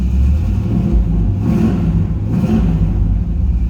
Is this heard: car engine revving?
yes